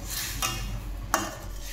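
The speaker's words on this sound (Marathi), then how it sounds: "आता आपण चवीनुसार यामध्ये मीठ ॲड करणार आहोत आणि व्यवस्थित मिक्स करून घेणार आहोत" Salt is stirred into a potato bhaji for puri, with two brief scrapes of a spoon against the pan over a soft background.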